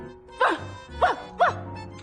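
A woman imitates a puppy with three short, whining yelps spaced about half a second apart, close and clear against a quiet background.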